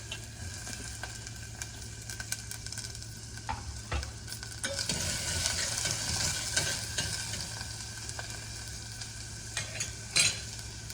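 Onions stirred and frying in a pan for a bitter gourd curry, a steady close sizzle with scraping spoon strokes throughout, no talk.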